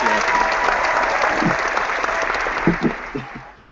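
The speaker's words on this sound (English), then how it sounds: "the clap, the applause sound effect" Applause sound effect played during a podcast recording, a continuous burst of clapping that thins toward the end while low voices begin speaking underneath.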